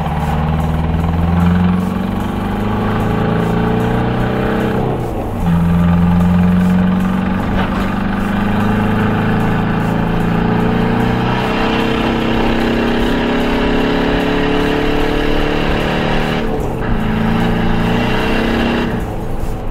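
Stance VW TDI diesel car engine revs up in repeated pulls, rising in pitch then dropping sharply at each gear shift near 4,200 RPM redline, loud and close with a rumbling drone between shifts, no talk.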